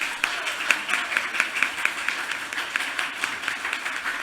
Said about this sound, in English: Please, let's have another full round of applause for both Alexia and Claire.